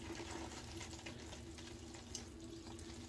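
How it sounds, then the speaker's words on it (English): Water trickles steadily into a shave soap bowl, dribbled off fingertips, as a soft continuous splashing with faint drips, close and alone without talk. "Or you can pick some water up with your hand and just dribble it in off your fingertips."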